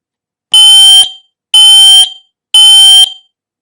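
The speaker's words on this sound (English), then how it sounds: "Smoke alarm." A Careium i10 smoke alarm sounds three loud, shrill beeps, evenly spaced about a second apart, close to the microphone.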